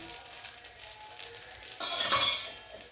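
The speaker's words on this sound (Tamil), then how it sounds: "இப்போ இந்த ஒரு தோசையை ஊற்றி சாம்பார் ஊற்றி அது மேலே கொஞ்சம் எண்ணெய் ஊற்றி" A dosa frying with oil on a hot pan, starting as a low sizzle and then rising into a louder crackling sizzle as oil is added, with faint clinks of utensils.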